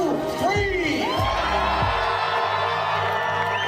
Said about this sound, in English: now another monster cheer for these climbers on 3. 1, 2, 3!